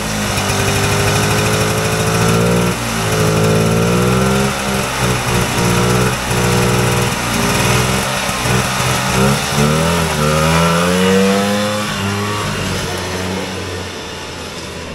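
A vintage Polaris Colt single-cylinder snowmobile engine runs close and loud after a tune-up, a raspy buzzing idle with throttle blips that rise and fall in pitch before settling lower near the end.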